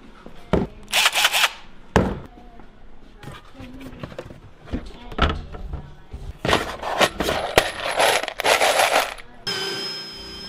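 Power drill boring and countersinking screw holes in the edge of a 2x4 for a DIY game table, several short loud whirring bursts with pauses and wood clatter between, speech heard at times.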